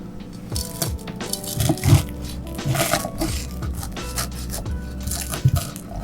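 Crisp crunching and squishing bites into a crispy vegan grilled cheese sandwich close up, several irregular crunches over a few seconds with faint background noise.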